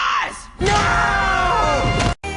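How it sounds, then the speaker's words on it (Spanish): A loud, drawn-out battle cry yell from a cartoon, a strained bellowing voice that breaks, then surges into a long sustained roar before cutting off abruptly. "Ese sí es un pinche grito de guerra."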